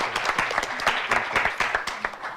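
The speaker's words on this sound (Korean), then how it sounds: "박수 한번 부탁드리겠습니다" A studio audience at a Korean high school debate competition applauds after a debater finishes a speech, a short burst of scattered, fairly close claps with no talking over it.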